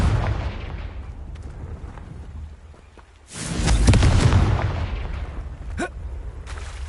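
Confringo explosive spell blast in Hogwarts Legacy, a sudden heavy booming burst that swells loudly after a lull and rumbles away, with scattered crackling and magical impact sounds around it.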